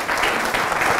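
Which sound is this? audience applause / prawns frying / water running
audience applause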